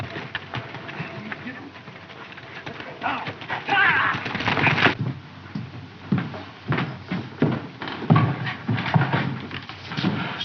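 A horse clip-clops away in a western drama, with rhythmic hoof beats growing busier in the second half, mixed with voices speaking over them.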